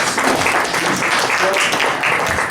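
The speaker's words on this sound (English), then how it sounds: "I think we should give a round of applause to Gerald as the exalted ruler." Steady crowd applause at a homeowners' association road committee meeting fills the whole stretch, a dense wash of many hands clapping at an even level with faint voices mixed in.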